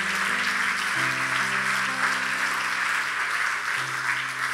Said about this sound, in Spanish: Alguien dele un aplauso a la gloria de Dios.